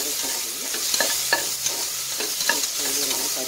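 Ginger garlic paste sizzles steadily in a hot pan while a spoon scrapes and stirs it, producing soft irregular clicks over the continuous frying hiss.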